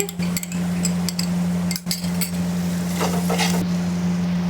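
Tomato ketchup being stirred into cooked pasta with a spoon, giving scattered soft scrapes and clinks against the pan over a steady low hum, close and fairly loud, with no talking.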